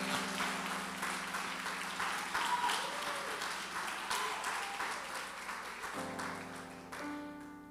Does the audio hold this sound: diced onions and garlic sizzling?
no